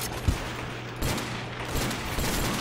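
Sniper rifle fired without a scope in Call of Duty: World at War zombies on the custom map Dale's Dock, with sharp shots among dense continuous game noise and a steady background hum, loud and close.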